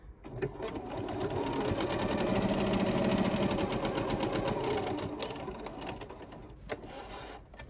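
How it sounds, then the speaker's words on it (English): A sewing machine stitches a seam on a fabric face mask, a close, steady, rapid mechanical whir that holds for several seconds. It slows and stops near the end with a couple of small clicks. "You're not going to sew this hole closed, but you are going to sew this seam closed."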